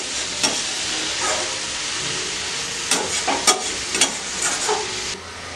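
Amaranth greens with turmeric being stirred in a frying pan, a steady close hiss of frying under occasional scraping spoon strokes and a few sharper clinks, loud and continuous without any talking.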